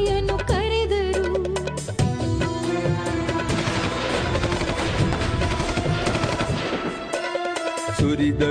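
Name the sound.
gunfire sound effect, British firing on protesters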